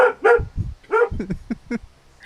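Indoors during an online music listening party, a pet dog barks repeatedly and close by, with a few loud barks and then a run of shorter, quicker yips.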